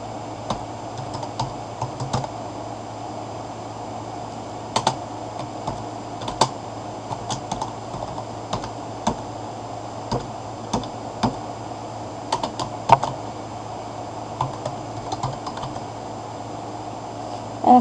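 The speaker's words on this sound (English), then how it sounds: "You're going to type in video editing and press tab," Text is typed into Microsoft Word on a computer keyboard: close, sharp clicks come in irregular clusters over a low steady hum.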